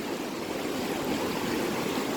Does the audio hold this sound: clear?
yes